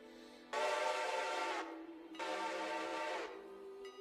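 Two long, loud whistle blasts from a departing train, separated by a short pause, with a steady low hum continuing underneath.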